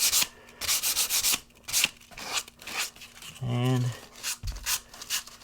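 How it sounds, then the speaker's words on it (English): Squeezed-out glue is sanded off MDF baseboard trim at an inside corner in short, rhythmic abrasive rubbing strokes, close and fairly loud, with pauses between bursts and someone briefly speaking. "you don't want to sand it so much around it over, but you want to kind of break the edge and get all the extra glue off"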